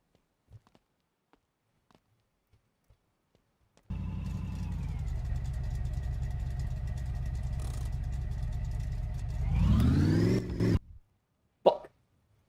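A Lada Niva engine catches after a push start and settles into a steady, loud idle for several seconds, then revs up sharply before cutting off, followed by a couple of faint knocks.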